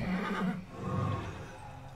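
A horse whinnies in a fantasy TV series scene, a loud close neigh with a shaky falling tone, then a quieter snort-like tail, with soft hoof sounds possible.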